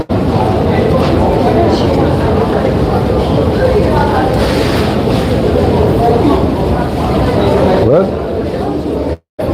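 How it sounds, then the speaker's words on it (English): Loud, continuous rumble and clatter of an old train running, steady throughout with rattling and a brief screech near the end. "Well, it's an old train, you know, very old."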